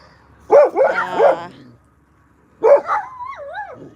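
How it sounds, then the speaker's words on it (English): Dogs barking close by in a home, a quick cluster of sharp barks, a pause, then one more bark trailing into a rising and falling whine, with a voice mixed in. "my dogs are distracting me."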